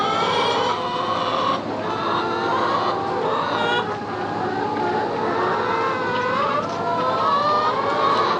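Hens cluck and call steadily in a farm pen, a continuous dense chorus of overlapping voices close by with no pause.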